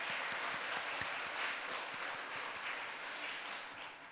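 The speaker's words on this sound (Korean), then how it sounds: "우리 다시 한번 우리 박수로 우리 대원들 격려했으면 좋겠습니다" A church congregation applauds the choir during Sunday worship, a soft, sustained patter of many hands clapping at an even level that eases off toward the end.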